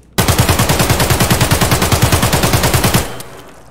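Automatic weapon fire in Escape from Tarkov: a loud, rapid, evenly spaced burst of roughly thirty shots lasting about three seconds, then stopping abruptly with a short reverberant tail.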